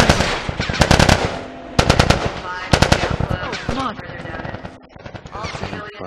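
Automatic gunfire rattles in The Last of Us as rapid bursts crack close and loud, with pauses between volleys. Shouting voices overlap the shots.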